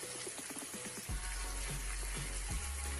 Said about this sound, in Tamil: அது வரைக்கும் நல்லா கொதிக்க விடுங்க.